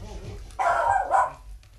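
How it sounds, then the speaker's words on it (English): A dog gives one loud, close bark, a single harsh burst with a quick second pulse, set against quiet room background. "That dog has a damnedest bark."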